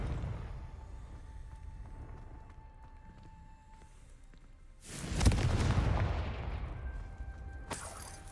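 The Confringo fire spell in Hogwarts Legacy fires off as a sudden loud whooshing blast that swells and rumbles for a few seconds after a quiet stretch, then a second sharp burst hits near the end.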